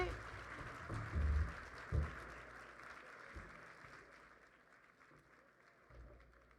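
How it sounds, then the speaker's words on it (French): A cabaret audience applauds a singer, a dense wash of clapping that swells early, then thins and fades, with a voice and low musical tones faintly underneath. "Oui, on peut l'applaudir, c'est beau."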